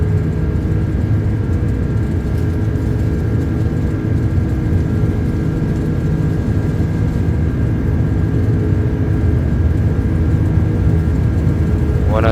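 Engines of the iniBuilds A330-300 airliner at takeoff thrust in Microsoft Flight Simulator 2024, departing King Shaka for OR Tambo, produce a loud, steady low roar and rumble with a faint tonal whine, unbroken throughout.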